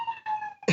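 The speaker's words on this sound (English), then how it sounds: "oh, it's a siren." Police siren wailing briefly on a New York City street, a steady high tone that drops away before a short burst of louder noise at the end.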